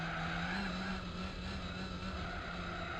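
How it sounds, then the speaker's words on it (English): Loud, steady Renault Clio race car engine drone in Gran Turismo 4, with a continuous tire screech layered over it, sustained at constant intensity throughout. "the engine sounds pretty good"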